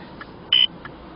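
Single short electronic beep from a radar detector set off by a roadside speed display near a school, standing out clearly over a steady background hum, with faint softer blips before and after.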